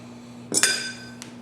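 A spoon clinks twice against a dish while seven layer dip is being assembled, two quick bright metallic taps close together followed by a fainter third tap, close by with no talking.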